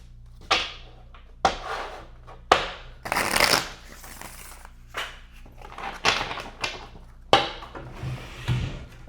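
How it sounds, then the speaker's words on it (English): Tarot cards are shuffled by hand in a series of crisp riffling bursts with soft taps and clatters in between, close and fairly loud, with no talking. "those 3 cards just fell on the ground"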